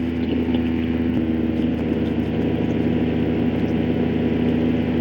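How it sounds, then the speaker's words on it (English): Small aircraft engine droning loudly and steadily in flight around West Chester, a constant heavy hum that fills the cabin with no break and no voices. "I feel like when the engine's running very loud, nothing's getting picked up"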